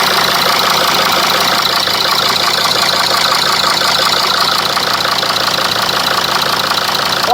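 An engine idling as it warms up, running smooth and steady with a dense, continuous knocking chatter, loud and close throughout with no pauses or voices.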